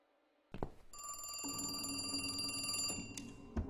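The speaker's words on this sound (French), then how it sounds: "Pourquoi y a le téléphone qui sonne?" An old-style telephone bell rings inside the horror video game The Cat Lady, a steady metallic trill lasting a couple of seconds, fairly quiet and heard on its own.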